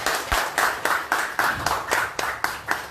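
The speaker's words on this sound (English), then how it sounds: "I wish you give yourselves a round of applause" An audience at a football club's press conference applauds, a steady run of evenly spaced claps of moderate loudness lasting a few seconds, with no talking over it.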